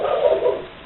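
A dog gives a short, mid-pitched vocal burst, close and fairly loud, that trails off within a second; no one speaks over it.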